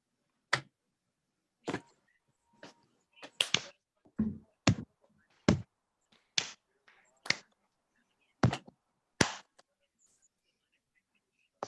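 An audience in a lecture hall claps and slaps thighs together in a group Morse code pattern, producing a sparse string of sharp, separate claps and slaps, some single and some in quick pairs, with silence between them.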